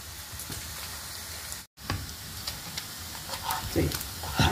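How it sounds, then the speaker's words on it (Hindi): Paneer cubes fry in a pan with a steady, close sizzle and crackle, broken by a brief silent gap and a few louder spatters near the end. "मागीर पनीर हो बरो फ्राय जालो"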